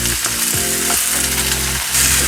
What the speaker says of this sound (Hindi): और हमने आलू और बरबटी इस तरह से काट के रखी हुई थी, इसको हम पैन में डाल देंगे